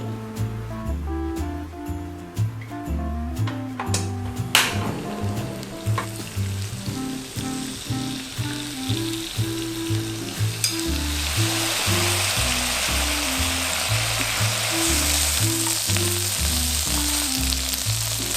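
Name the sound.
frying vegan soy skin strips in vegetable oil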